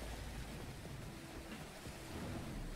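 Thunder and rain during a storm in the video game What Lives Below, a faint, steady wash of rainfall with a low rumbling thunder underneath, distant and continuous.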